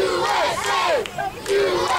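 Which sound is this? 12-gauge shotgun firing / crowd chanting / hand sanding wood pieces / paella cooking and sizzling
crowd chanting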